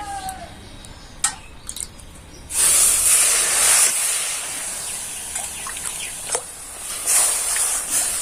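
Water poured into a hot pan of semolina for a fried sweet, starting with a few light clinks and then bursting into a loud, close hiss of steam that settles into a steady sizzle, with no talking.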